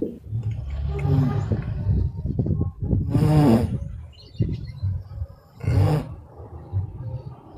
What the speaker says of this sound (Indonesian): Siapa yang ngorok?